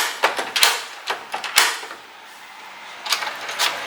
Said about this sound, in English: if you have the mechanical key, just insert this one, then you turn it to the right